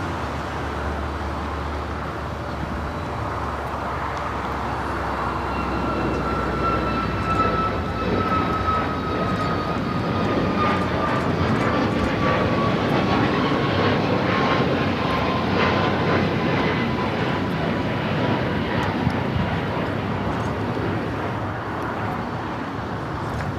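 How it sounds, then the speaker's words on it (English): A Lufthansa Boeing 747-8 Intercontinental jet takes off at LAX, its engines building to a loud sustained roar with a slowly falling whine, heard from a distance with no talking. "457 taking off to Frankfurt. 747-8 Intercontinental."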